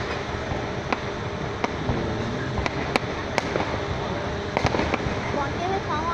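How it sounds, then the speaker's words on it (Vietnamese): Fireworks burst from a bridge viewing spot, with sharp cracks and pops scattered irregularly over a dense, noisy crowd and wind background, some bangs clustered together, while people talk nearby. "vòng này bắn pháo hoa chán nữa."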